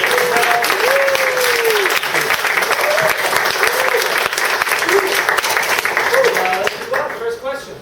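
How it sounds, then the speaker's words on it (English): Audience applause for speaker Nikita after a talk on real-time big data in a distributed SQL system: loud, continuous clapping from a crowd, fading near the end as talking begins. "I just want to first give him a great big round of applause to Nikita"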